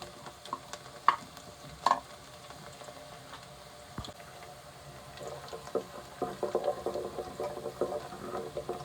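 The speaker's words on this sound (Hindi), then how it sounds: "लहसुन और ज़ीरे को फ्राई कर लेते हैं।" Garlic and cumin seeds frying in hot oil for a potato and fenugreek curry, with faint scattered clinks of a spoon early on, then a soft, steady sizzle and crackle that grows busier toward the end.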